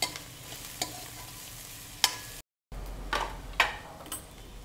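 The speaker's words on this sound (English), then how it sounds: "You just fry it till it loses its raw flavor." Something frying in a pan for a cauliflower dish, a soft steady sizzle broken by sharp spatula clicks and stirring scrapes, with a momentary dropout midway.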